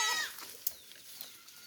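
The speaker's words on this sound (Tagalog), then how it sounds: "Nag-iingay yung mga kambing." A brief, high, wavering bleat from goats in a forest clearing, loud at the start and then trailing off into quiet surroundings with a few faint clicks.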